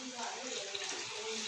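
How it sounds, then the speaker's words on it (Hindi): Water poured into a pot of chicken curry to make a gravy, a soft continuous splashing pour that stays even and fairly quiet throughout the short moment. "मैं थोड़ा सा शोरबा बनाऊंगी इसलिए मैं पानी शामिल कर रही हूँ।"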